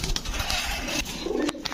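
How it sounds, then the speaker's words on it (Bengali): Female pigeons of fancy breeds coo close by in a pigeon keeper's loft, a steady low murmur of soft coos with some flapping and rustling over a busy background. "মাদি কবুতর।"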